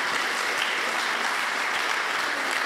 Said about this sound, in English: I would like your applause to thank the product team